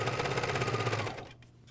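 MyLock 454D serger stitching pajama bottoms, a rapid steady mechanical chatter running close and loud for about a second before slowing and stopping.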